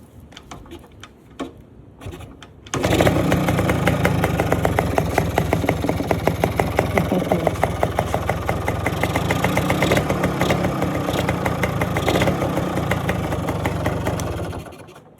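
A Yamaha RS 100 motorcycle engine kicks into life after a few quiet knocks and settles into a loud, close, steady two-stroke idle with a rapid ticking beat that runs for about twelve seconds before cutting off.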